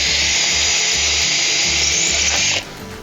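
A power drill whines loudly and steadily close by while driving screws into deck boards, a pulsing low rumble under the high motor noise, then the whine stops abruptly near the end.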